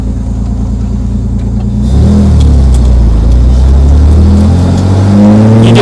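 A 1959 Austin Healey 3000 sports car engine drives steadily at close range, a deep low rumble that swells louder after a couple of seconds as the car pulls harder, with no voices.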